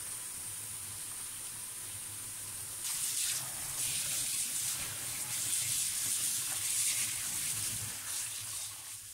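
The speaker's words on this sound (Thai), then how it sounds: "เปิดน้ำเย็น" Cold water runs from a kitchen tap in a steady, close hissing gush, growing louder and fuller partway through as the flow strengthens, with no voices.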